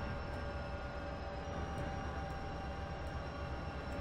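Diesel trains race along a track in the Transport Fever video game, giving a steady, faint rumble with a sustained engine hum and no talk.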